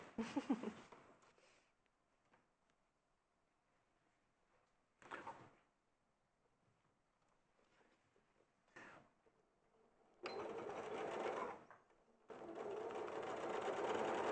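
A domestic sewing machine runs in short bursts, stitching a centimetre-wide seam along a garment's edge; several brief runs lead up to two longer, steady stretches of motor whir, separated by near silence.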